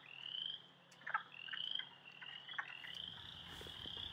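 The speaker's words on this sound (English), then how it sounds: "The chuckling sound is wood frogs. The sound like a thumb on a hard comb are chorus frogs. And the peeping sound are spring peepers." A spring chorus of wood frogs, chorus frogs and spring peepers calls steadily, with a constant high peeping over scattered chuckles and raspy trills, moderately distant and fairly quiet.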